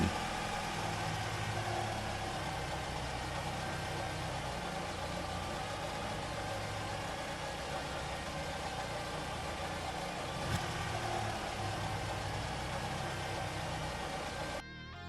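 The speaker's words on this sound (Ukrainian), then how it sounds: "проводимо заміри, коли двигун працює на бензині" A petrol engine, one that can also run on gas, idles steadily in a service bay during measurements, a continuous close hum with mild vibration lasting the whole stretch before cutting off abruptly at the end.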